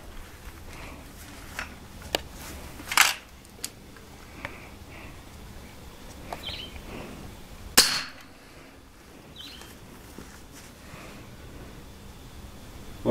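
An air gun fires small lead pellets at safety glasses, giving three sharp, loud snapping shots spaced a few seconds apart, with fainter ticks and clicks of handling in between.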